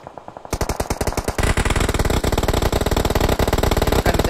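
Rapid automatic gunfire in a video game training scrim, a dense loud burst of fast evenly spaced shots that starts abruptly and keeps rattling without pause, with echoing tail.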